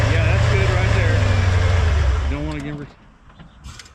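An abandoned 1991 Ford F150 4x4 pickup engine runs loud and steady with a low idle rumble, then drops off sharply near the end, leaving quieter clatter and a voice talking over it.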